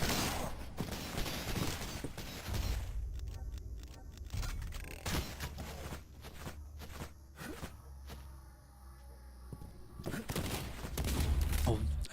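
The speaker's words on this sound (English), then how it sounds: "Oh, accidentally fired a shot" A single sharp shotgun blast in a speedrun video game, set among scattered clicks, thuds and footstep-like knocks, with a voice talking over parts of it.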